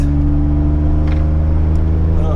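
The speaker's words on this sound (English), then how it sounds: "car's making a few little rattling noises, but so far it's actually handling pretty well" A DeLorean lapping the Nürburgring Nordschleife produces a loud, steady engine drone with strong low harmonics, heard up close from inside the car as a continuous hum that barely changes pitch.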